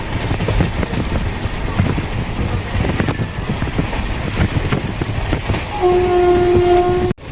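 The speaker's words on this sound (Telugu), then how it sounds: "ప్రజెంట్ ట్రైన్ స్పీడ్ 110, 108 అలా మెయింటైన్ చేస్తుండు." Express train 16362 Velankanni–Ernakulam running at about 110 km/h, a steady loud rumble and wind rush heard from onboard throughout, with a brief horn-like tone near the end.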